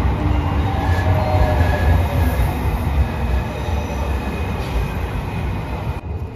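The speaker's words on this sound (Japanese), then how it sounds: "21時41分着285系電車サンライズ瀬戸号東京行き到着です。" A JR 285 series Sunrise Seto express electric train bound for Tokyo pulls into Tokushima station at night, a loud continuous rumble of wheels on rail with drawn-out squealing brakes as the cars roll in.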